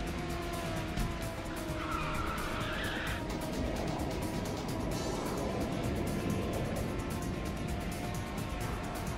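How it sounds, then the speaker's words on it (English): Ridge Racer 6 racing video game audio of a car boosting with nitrous, a loud steady engine roar with tire squeal and skidding rushes throughout, no talking. "Someone fired off some nitrous!"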